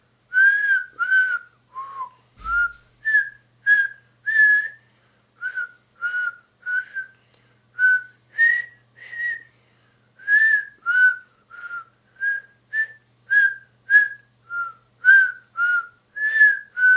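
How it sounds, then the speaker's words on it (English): A single person whistles the tune Mary Had a Little Lamb alone, clear close notes in a steady melodic run of short phrases with brief pauses between them. "I am going to whistle Mary Had a Little Lamb for you."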